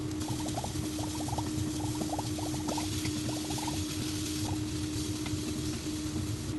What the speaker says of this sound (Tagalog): Then minced garlic.